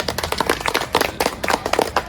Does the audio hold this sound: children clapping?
yes